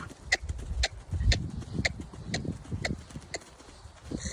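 Pony Haribo trots and gallops in a riding school arena, hooves thudding in a quick, even rhythm close by, with a light jingle of tack over the beat.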